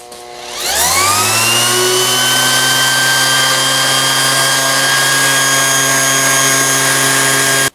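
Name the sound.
random orbital sander sanding body filler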